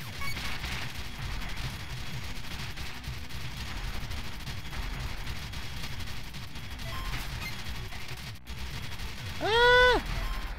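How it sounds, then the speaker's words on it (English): Rapid machine gun fire in the retro-style game Retro City Rampage, a steady stream of chiptune shots running the whole length under game music, with a player talking over it. "Oh, good. I have a machine gun."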